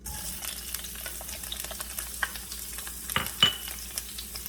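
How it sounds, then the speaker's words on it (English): Onions, with garlic, go into hot olive oil over a high flame. A close, steady sizzle holds throughout, with scattered spatula scrapes and a few sharper clicks and pops near the end. "make sure that your olive oil is hot. Then we're going to place now our onions"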